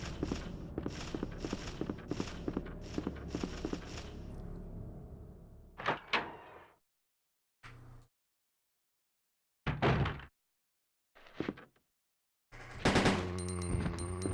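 Gunfire in the video game Resident Evil 2 as birds are shot, a rapid burst of repeated shots followed by a few separate loud single blasts with silent gaps between.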